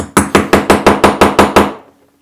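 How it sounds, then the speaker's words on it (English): Eight evenly spaced, sharp metallic hammer blows drive a fitting into a handmade textile box bag through a domed setting tool, each strike ringing briefly before the last one fades out. "Hammer that in."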